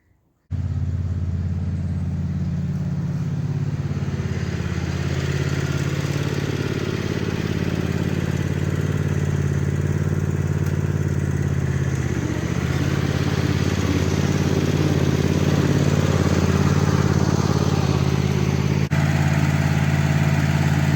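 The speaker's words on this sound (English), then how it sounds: "just bringing the Little Red Tractor out just to give it a warm through." The Little Red Tractor's engine warming up, starting abruptly then holding a steady low rumbling idle close by for the whole stretch, with slight swells in loudness.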